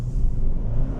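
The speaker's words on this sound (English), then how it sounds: "those front wheel drive burnouts are extremely easy to control" A front-wheel-drive 2022 Hyundai Sonata N-Line roars at high revs during a burnout, a steady, loud low rumble throughout, sustained like wheels spinning under heavy throttle.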